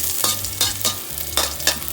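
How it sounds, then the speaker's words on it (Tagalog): Garlic sautéing in hot oil in a wok-style pan, a steady sizzle broken by a few brisk stirring scrapes at roughly even intervals, close and fairly loud with no talking. "pag mainit na yung kawali, tsaka yung mantika, agisa natin yung bawang"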